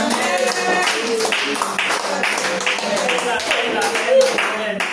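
A church congregation claps together in acclaim of the Lord during a French praise and worship service, a steady dense rhythmic patter with voices speaking and singing over it throughout.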